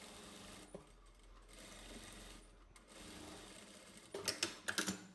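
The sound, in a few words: sewing machine stitching a topstitch seam on a lined overcoat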